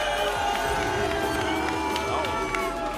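At the Rocket League World Championship playoffs, an arena crowd cheers and roars in a dense, sustained wash of voices, with a few whoops rising above it.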